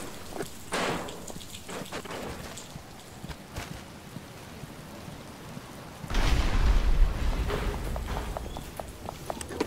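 Rain begins to fall as a soft, steady hiss with scattered patters, swelling noticeably louder and fuller partway through, with no talking.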